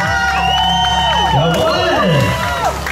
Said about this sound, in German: Dicken Applaus hier für Jascha.